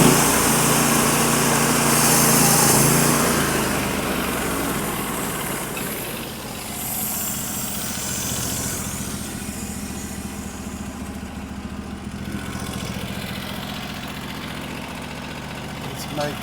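An HD36V2 sawmill working through a big slab log, its engine droning steadily and loud throughout with a rough, buzzy cutting roar that eases slightly after the first few seconds.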